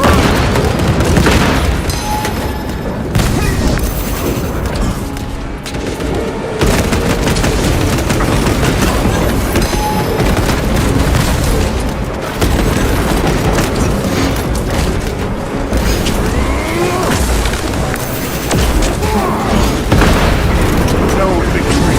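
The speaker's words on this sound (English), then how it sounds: "Stun grenade front." Stun grenade blasts and heavy combat in Warhammer 40,000: Space Marine 2, with booming explosions and gunfire packed tightly together and continuing loud throughout.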